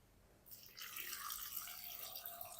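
Water pours into a bowl of salted, cut bitter gourds, starting as a faint trickle and swelling into a steady splashing stream that runs on close and clear, with no voices.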